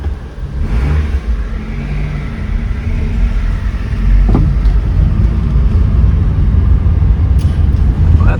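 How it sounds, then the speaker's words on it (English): Car engine idling steadily after an evap purge valve fix, a loud, constant low rumble with faint mechanical clatter and one brief sharper tick midway, no voices. "Steady idle."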